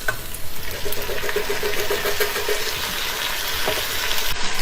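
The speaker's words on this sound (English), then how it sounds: "Alright, let's add the tomatoes." Tomatoes going into a hot pot of birria on a Blackstone griddle, giving a continuous sizzle and bubbling with some stirring, close and fairly loud throughout, with no talking.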